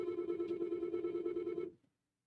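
A telephone ringing for an incoming call on a radio talk show, one steady electronic ring tone held for about a second and a half before cutting off into silence.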